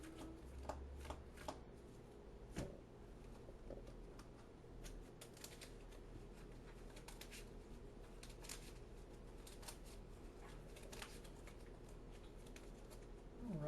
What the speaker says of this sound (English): But I'll make the shuffle kind of quick.